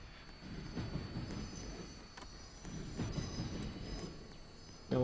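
A locomotive hauls a train in a rail video game, producing a steady rumble of rolling wheels with faint clicks and squeals at low volume and no talk over it.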